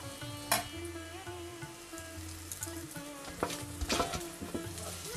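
Spiced new-potato cutlets sizzle and crackle in a frying pan while a utensil stirs them, giving scattered scraping clicks over a steady, fairly quiet fry.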